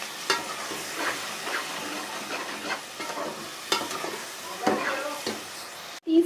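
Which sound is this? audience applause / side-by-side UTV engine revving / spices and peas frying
spices and peas frying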